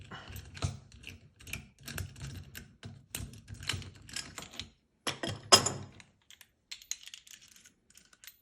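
A socket wrench turned by hand to tighten a nut, giving quick runs of small ratcheting clicks in bursts with short pauses, close and fairly quiet, fading to sparse ticks at the end.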